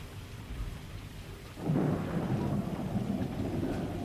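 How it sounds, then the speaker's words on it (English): A thunderstorm with steady rain: a constant wash of rainfall, then a heavy rumble of thunder swells suddenly about midway and keeps rolling loudly under the rain. No voices. "I hope this storm doesn't last."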